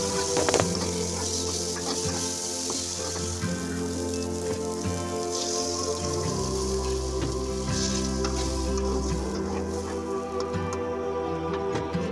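Steady loud sizzling of small puti fish (pool barb) frying in hot oil, a dense crackling hiss that continues throughout with no talking.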